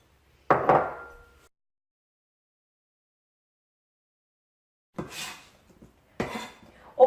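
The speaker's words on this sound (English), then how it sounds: "let's start with chopping up our dates" Dates being chopped for healthy snacks, a few sparse knocks of a knife on a cutting board: one early clatter, then a long silence before several more knocks near the end, close and clear.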